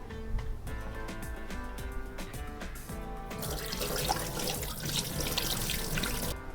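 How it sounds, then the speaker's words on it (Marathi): Hands are washed under a running kitchen tap while frying mackerel is prepared, a steady splashing gush that grows fuller midway, over faint background music. "तोपर्यंत मी थोडे हात धुवतो आहे"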